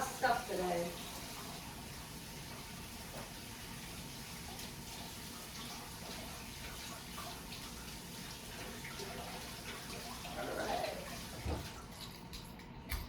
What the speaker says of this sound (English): I hope that's enough hand washing